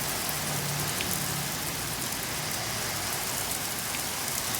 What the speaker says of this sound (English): Torrential downpour coming down the driveway.